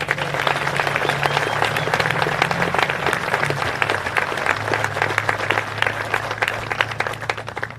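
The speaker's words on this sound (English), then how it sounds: "join me in a round of applause once again for us" Vigorous, sustained clapping from a military crowd at the Best Redleg Competition award ceremony, dense and close, with a low hum running underneath.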